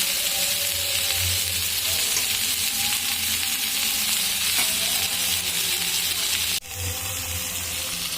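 Meat and liver frying together in a pan, a loud, steady close-up sizzle with a brief clatter near the end.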